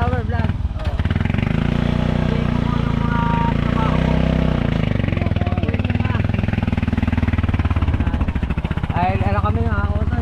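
A motorcycle engine runs steadily close by for the whole stretch, a dense mid-pitched drone with a rising rev near the end, while people talk over it.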